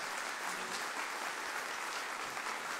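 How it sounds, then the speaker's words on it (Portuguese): Sustained applause from a church congregation during a worship service, a thick uniform wash of many hands clapping at once, steady and somewhat distant with no voices over it. "A sua melhor salva de palmas,"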